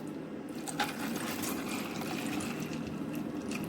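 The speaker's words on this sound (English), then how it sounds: "So I'm going to pour my coffee on top of my ice." Coffee poured over ice in a glass makes a soft, steady trickle that runs for a few seconds, close and fairly quiet, with faint clinks near the start.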